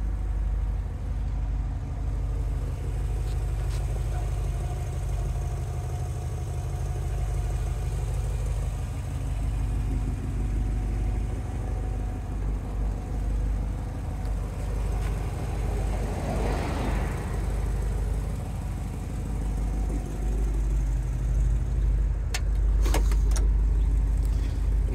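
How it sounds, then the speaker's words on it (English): A 1965 Ford Thunderbird convertible with a 390 V8 and a slight exhaust leak at the manifold idles steadily, a low even rumble with faint ticking, close by and without talk. "It's got a slight exhaust leak by the manifold."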